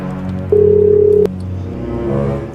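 A phone being dialed in a short comedy skit, giving one loud, steady tone lasting under a second and standing out from the quieter background.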